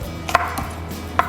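Knife slicing through food while cooking fresh shrimp in fish sauce, giving two or three sharp, close, isolated cuts over a faint background hum.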